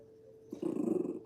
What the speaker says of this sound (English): you're gonna bark while I'm holding you?